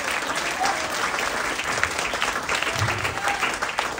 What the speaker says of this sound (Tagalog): Mahina ang palakpak, hallelujah.